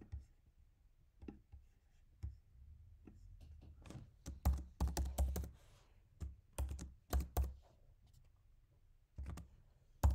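Keys clack on a computer keyboard in quiet, close bursts of fast typing, separated by short pauses with a few louder strokes.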